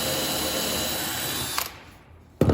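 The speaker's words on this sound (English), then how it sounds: "you'll want to drill a hole in here" A power drill drilling a hole in a wooden board whirs steadily for about a second and a half, then stops, leaving near silence before a brief loud burst at the end.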